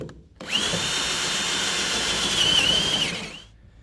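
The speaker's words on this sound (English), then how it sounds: "where you drill your holes is entirely up to you" Power drill boring holes through a GMC Sierra truck bed, a single close, loud, steady high-pitched whine lasting about three seconds before winding down, with no talking.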